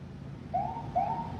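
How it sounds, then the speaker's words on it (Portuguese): Two rising electronic wails of a siren sound in quick succession, fairly faint and distant over a low background hum. "Até tocou a sirene aqui."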